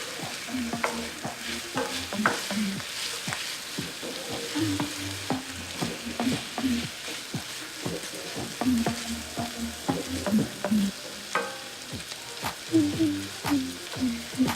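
Risotto rice toasting in oil and butter with mushrooms and shallot, a moderate frying crackle under repeated rhythmic scraping and stirring of a spoon against the pan, no voices.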